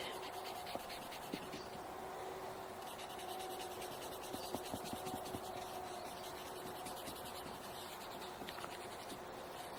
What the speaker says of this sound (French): je vais gommer un petit peu plus encore pour que mes crayons de couleur ne soient pas pollués par le gris du crayon de papier